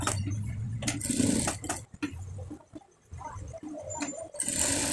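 A sewing machine stitches a pocket onto a fotua, running in short uneven bursts that stop and start with a near-silent gap midway, close and fairly loud, with no speech.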